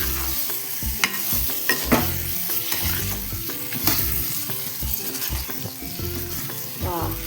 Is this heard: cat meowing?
no